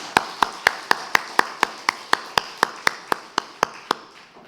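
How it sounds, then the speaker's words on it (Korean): About fifteen evenly spaced sharp claps inside a church, a steady rhythmic beat of hands from a congregation, fairly close and fading slightly at the end. "하나님께 영광의 박수 올려드립니다."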